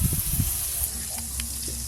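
Bitter gourd frying in oil in a kitchen pan, a steady close hiss of sizzling with a few soft bubbling pops and brief clatter, no voices over it.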